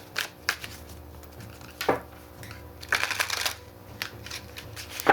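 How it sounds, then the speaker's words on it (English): Tarot cards shuffled and slapped down, a run of crisp riffling bursts and soft taps up close, fairly quiet, with no talking over them. "I'm going to throw 2 more cards on here."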